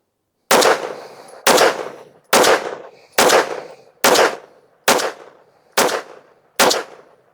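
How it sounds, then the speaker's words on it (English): A Taurus G3 pistol fitted with a compensator fires eight loud, sharp shots at a steady pace of about one per second, each crack trailing off before the next. "we're going to shoot a 10-shot group"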